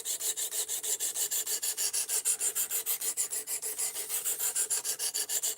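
An Ozark Trail axis lock knife blade is stroked across a sharpener in quick, regular rasping passes, about four per second, close and clear with no talk.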